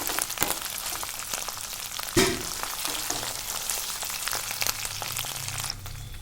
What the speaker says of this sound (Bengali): আমি এবার আবার ফ্রাই করে নেব।